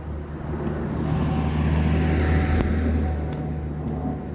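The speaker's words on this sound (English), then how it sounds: "Look at the airplane." An airplane flying overhead during a street walk after snow, heard as a steady low roar that swells and fades gently over a few seconds amid outdoor background noise.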